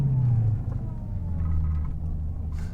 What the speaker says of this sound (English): Rev match downshift, and the hardest one, the first.